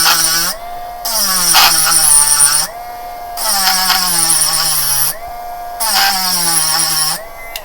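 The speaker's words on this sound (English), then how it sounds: "So I'll grind down a little." A power tool grinds down a part for an NSR slot car on a Land Barge zipper-top chassis, whining loudly in three long bursts with short pauses between them and no talk.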